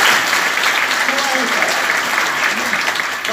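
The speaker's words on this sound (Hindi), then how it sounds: "तो इसके लिए एक बार जोरदार ताली जरूर बजाना।" Loud, steady applause from an audience fills a spiritual class, with clapping continuing densely throughout and faint voices mixed in.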